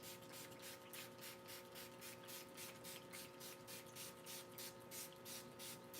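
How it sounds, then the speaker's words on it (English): Soft repeated hissing bursts of a spray bottle misting a paint palette, a steady run of quick spritzes at close range with no voices. "I'm going to take a minute and spray it."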